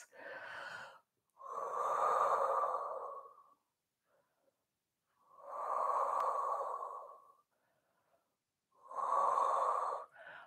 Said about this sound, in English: And just take some deep breaths.